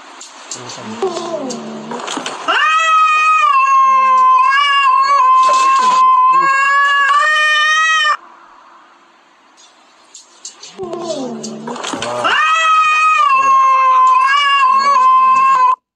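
A cat squealing and meowing loudly in long, drawn-out, song-like wails, two extended bouts separated by a brief quieter pause, close and piercing.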